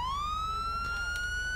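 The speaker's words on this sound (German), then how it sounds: "Ich kann meine Sirene ausmachen" A police car siren in the video game GTA 5 gives a loud, rising wail that sweeps up and then holds high over a low engine rumble.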